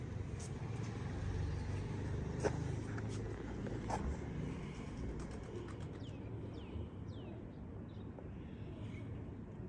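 Large breeding pigeons, including a selected female, murmur and coo faintly in a loft alongside a low outdoor rumble like passing traffic, with a few brief chirps from other birds in the background.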